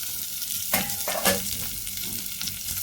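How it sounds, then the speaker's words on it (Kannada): Chopped onion fries in a little hot oil at the start of a Kane fish curry made without coconut. A close sizzle plays alongside a few sharp scraping stirs. "ಸ್ವಲ್ಪ ಬಿಸಿ ಆದ ತಕ್ಷಣ ಅದಕ್ಕೆ ಒಂದು ಅರ್ಧ ಆನಿಯನನ್ನು ಕಟ್ ಮಾಡಿ ಹಾಕುವ."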